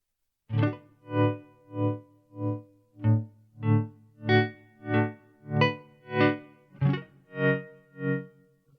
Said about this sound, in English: currently we have that one repeat because we have the delay turned up